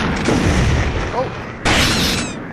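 Grenade blasts in the video game The Thing, two broad booming bursts with the second sharper and louder, mixed with game noise and a possible voice.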